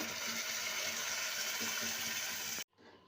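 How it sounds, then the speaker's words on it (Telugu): Cooked lentils pour into a pan of fried onions for Telugu-style spinach dal, a steady, close, continuous liquid splash and sizzle that cuts off abruptly near the end, leaving near silence. "ఇప్పుడు నేను పప్పు వేసుకుంటున్నాను దీంట్లో"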